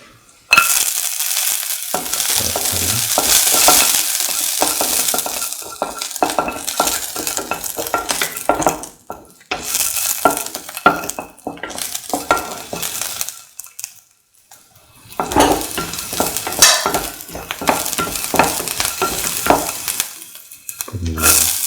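Garlic fries loudly in a pan for a mango plantain stew, a dense crackling sizzle broken by repeated scraping stirs and clinks, dropping away briefly twice before surging back close and strong.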